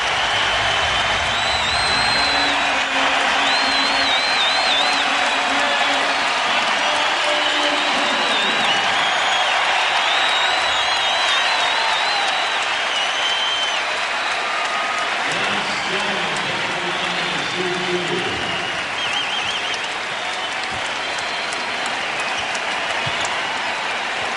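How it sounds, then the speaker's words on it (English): Arena crowd at an NBA game, 76ers versus Wizards in Philadelphia, standing and cheering with sustained loud applause and roar throughout, while a commentator talks over it. "A whole building standing and cheering."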